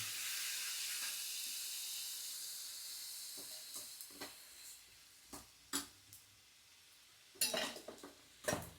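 Peanut oil sizzles in a pan in a home kitchen, a steady soft hiss that fades over several seconds and is followed by scattered clinks and scrapes of a spoon against the pan, close and quiet.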